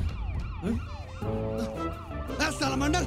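An ambulance siren in a Nepali feature film wails continuously in rising and falling sweeps, fairly loud and close, over a low vehicle rumble.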